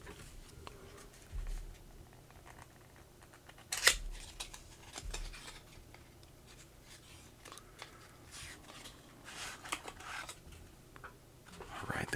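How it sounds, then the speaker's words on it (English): Brittle cellophane being peeled off a card game box, sounding as faint, scattered crinkles and sharp crackly snaps with a few louder tearing bursts, close up in a quiet room. "Get the cellophane off of there."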